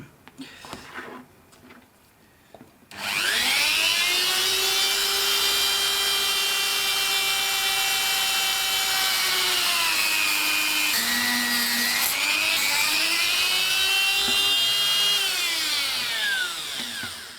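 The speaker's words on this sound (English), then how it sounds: "for that I'm going to be using the cutting tool, so watch out, this bit is going to get a bit loud." After a brief quiet start, a high-pitched power cutting tool screams loudly and continuously, its whine dipping and rising as it bites into a plastic model kit.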